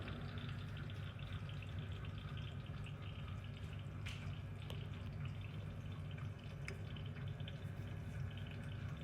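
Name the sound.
water dripping through Epic Water Filters Pure pitcher filter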